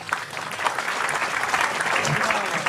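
Audience applause at a Cak Nun gathering, a steady dense clatter of many hands filling the room, with a voice murmuring faintly underneath.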